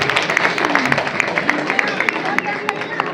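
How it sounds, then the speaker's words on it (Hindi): Audience applause greeting an officer at an event for disabled children at Lajpat Bhawan, dense steady clapping from a crowd with murmured voices underneath, sustained throughout. "इनके लिए भी जोरदार तालियों से स्वागत है"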